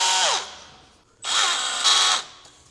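A power tool cleans bare metal on a Willys MB steering box mount, its high whine rising in two loud close bursts with a short pause between them and no talking.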